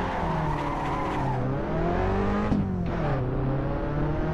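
Racing car in Assetto Corsa at a drag race launch: loud, close tire squeal and wheel spin over a revving engine whose pitch rises and falls.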